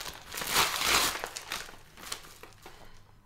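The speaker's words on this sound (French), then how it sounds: "je vais ouvrir ce colis-ci" Packaging crinkles and rustles as a parcel is opened by hand, close and fairly loud at first, then a series of softer crackles and crumples.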